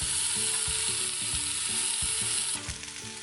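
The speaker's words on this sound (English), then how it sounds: "So as this is browning really nicely, we're gonna just turn it around." Beef and onions browning in an Instant Pot for Russian borscht, a steady loud sizzle and crackle running throughout with periodic thumps and scrapes of stirring and turning the meat, easing slightly near the end.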